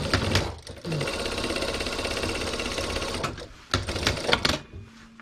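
A sewing machine joins strips of fabric, stitching in rapid continuous bursts with brief pauses and clicks between runs, fairly close and clear.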